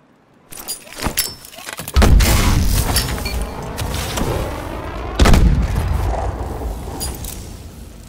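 Smart grenade explosions in the Call of Duty Advanced Warfare shooter, two heavy booms about three seconds apart, each with a long rumbling decay, preceded by metallic clinks and rattles during grenade training.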